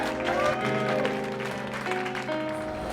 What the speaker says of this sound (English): Big round of applause for Courtney Maginniss, everybody.